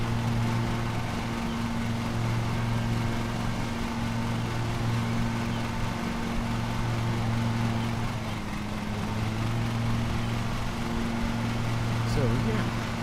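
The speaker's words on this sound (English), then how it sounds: "Okay, and we are mowing." Lawn mower engine droning steadily while mowing in the Lawn Mowing Simulator video game, a continuous low hum running throughout at constant level, with speech-like sound mixed in.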